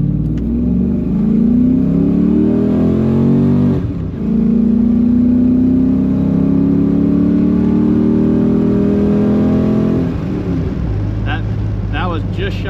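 An LS1 V8-powered Jeep Grand Wagoneer accelerates hard on a road test drive, its engine droning loud and steady as the pitch climbs through long pulls, with a brief dip at a gear change.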